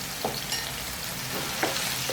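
Marinated beef fries in hot oil in a pan, giving a loud, continuous hiss with a few soft stirring clicks.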